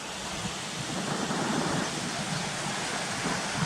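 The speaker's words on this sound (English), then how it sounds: "The river's wider here as well" Wide river flowing past old ruined buildings near a pasture, a steady broadband rush of water heard alone and fairly close.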